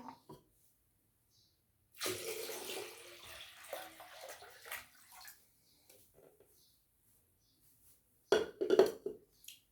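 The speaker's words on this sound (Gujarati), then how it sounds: "ચલો હવે આપણે ટબમાં પાણી કરીશું." Water is poured into a tub during a primary school measuring activity with cups and a jug, heard as two separate bursts of splashing, the first longer and the second short and louder, with quiet gaps between.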